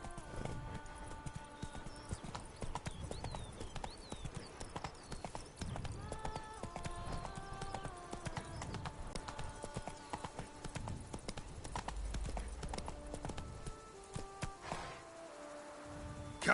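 Roach's hooves trot steadily in The Witcher 3: Blood and Wine, a clear rhythmic clip-clop running throughout beneath soft music and occasional snorting.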